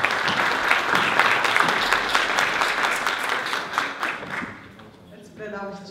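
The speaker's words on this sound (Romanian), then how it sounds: "Vă rog să-l dăm aplauze." An audience bursts into dense, sustained applause at a business marketing event in a hotel, loud and close for several seconds before it thins out as a voice begins speaking.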